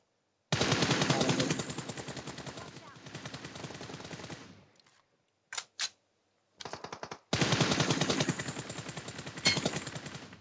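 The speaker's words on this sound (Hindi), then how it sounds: "पीछे से गोली चली" Rapid automatic gunfire in the video game PUBG sounds in long loud bursts. Short pauses and a few isolated shots break them up before the sustained fire resumes.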